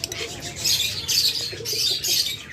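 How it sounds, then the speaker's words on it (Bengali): Double factor blue budgerigar at a bird farm, its repeated squawks and chirps coming in short bursts over a busy background of other birds. "ডাবল ফ্যাক্টরের সাথে পার ব্লু চমৎকার একটা পাখি"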